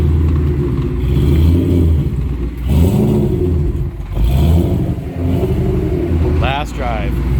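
A 2013 Shelby GT500 engine revs loudly and repeatedly, with deep surging rumbles rising and falling close by; a voice speaks briefly near the end.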